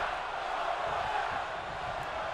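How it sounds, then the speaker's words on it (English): A video-game arena crowd in WWE 2K22 keeps up a steady, continuous roar of chanting that sits at an even level throughout. "Crowd here chanting one more time."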